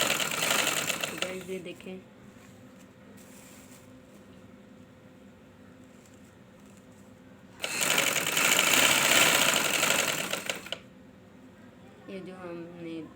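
A sewing machine stitches piping onto the edge of a garment hem in two short runs, one brief and one longer, with someone talking between and over the quieter gaps.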